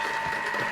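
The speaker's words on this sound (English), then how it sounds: "you can still hear a few pellets running around there because I didn't grind the chocolate" Unground chocolate pellets rattle around inside a running food processor or grinder, giving a steady mechanical whir with a sharp tonal hum and quick gritty clicking throughout, close and fairly loud.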